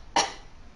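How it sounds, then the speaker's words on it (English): A single short cough, close and fairly loud, muffled as if into fabric, then quiet. "we're going to cough in our clothes."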